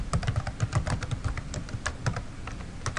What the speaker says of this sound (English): I'm going to have to type in my new username.